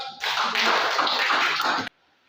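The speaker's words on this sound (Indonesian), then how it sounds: "Berikan dulu aplaus untuk kita" A classroom of students claps for a group's presentation, a dense burst of hands lasting under two seconds before it stops abruptly.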